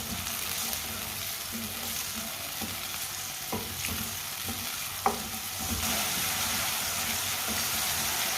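Mixed vegetables with large-cut green chillies cooking in a pan make a continuous even sizzle, punctuated by a few soft knocks and scrapes of a stirring spoon, with no voices.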